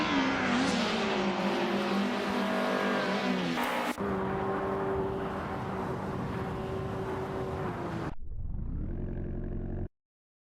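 Race cars roar through a racing video game, a steady, close engine drone with rising revs and whirring that holds for about eight seconds before cutting to a quieter, lower tonal hum.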